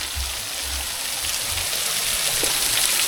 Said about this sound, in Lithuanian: Kaip gražiai vandenukas bėga, kaip gražiai.